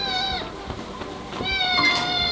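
A house cat meows twice in a kitchen, two drawn-out tonal calls, close and fairly loud, separated by a short pause.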